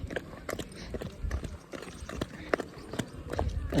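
The hooves of a young mare clip-clop in a steady rhythm of soft thuds close by. A faint voice can be heard in the background.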